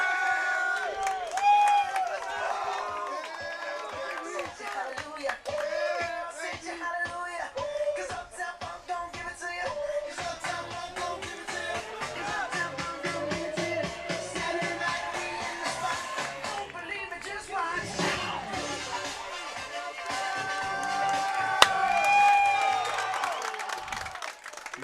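Rugby match crowd against Sherbrooke celebrating a try: sustained loud cheering, shouting and applause that swells near the end, with voices mixed through the roar.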